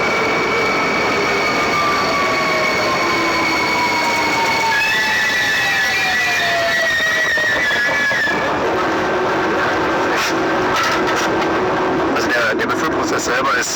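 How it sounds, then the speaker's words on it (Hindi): A hydrogen-powered passenger train rolls along rails, a loud steady rumble with high wheel squeal and tonal whines sweeping down, ending in clicking rail noise, as a voice speaks over it. "हम इस वीडियो से देख सकते हैं कि हाइड्रोजन ट्रेन का लुक किस प्रकार से है और किस प्रकार से ये चलने वाली है।"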